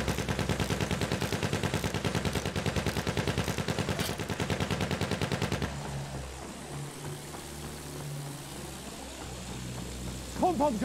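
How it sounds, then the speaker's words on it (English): Pom-pom anti-aircraft guns in Battlefield 1 pound out a steady, rapid rhythmic stream of heavy shots for about five seconds, loud and close, then stop, leaving engine rumble and game noise. "Pom-pom guns over there!"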